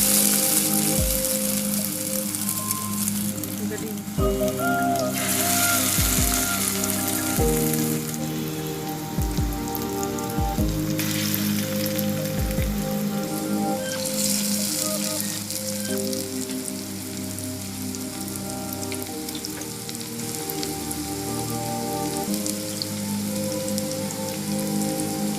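Round noodle pakoras fry in a little hot oil over a low flame, a dense steady sizzle and crackle like rain on a surface, close and continuous, with occasional low knocks and clinks of utensils.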